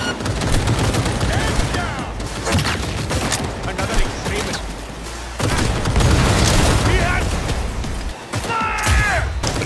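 Rapid gunfire and booming shots from a Cyberpunk 2077 firefight, loud and nearly continuous bursts with crashes and mechanical clatter throughout, a voice speaking over the chaos.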